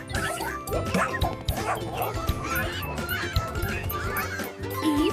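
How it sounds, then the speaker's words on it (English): An animated dog yips and barks in quick, busy bursts over a lively children's music backing in an alphabet lesson. "D for dog. D for dog."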